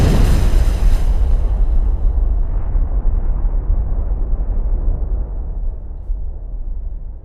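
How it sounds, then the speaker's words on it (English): A massive explosive roar that bursts out loudly, then rumbles and slowly fades into a deep, lingering low boom. "There are signs of massive explosions that are changing the shape of the Earth's surface"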